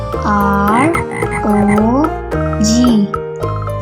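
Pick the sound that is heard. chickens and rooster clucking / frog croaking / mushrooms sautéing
frog croaking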